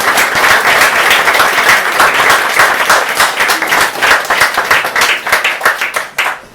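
An open-mic audience claps for a poet, a dense steady round of applause that carries on for several seconds before tapering off near the end.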